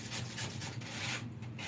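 Hand-sanding an old pressed board cabinet in a basement, quiet repeated rasping strokes in a steady back-and-forth rhythm, close by and faint.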